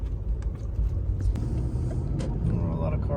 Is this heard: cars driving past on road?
yes